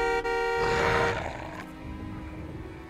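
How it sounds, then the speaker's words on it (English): A car horn sounds in the Jurassic Park: The Game video game, a steady held tone that then fades into a low, rumbling background. "Can we honk the horn?"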